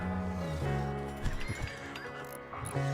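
Horse from the RimWorld video game neighing in a loud, close, wavering whinny with several harmonic tones, broken by a few thumping hit sounds, then the call resumes near the end.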